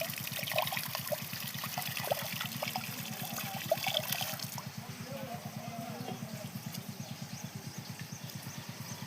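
Water splashing and trickling as peeled taro leaves are washed by hand, steady and fairly close, over a constant low mechanical hum.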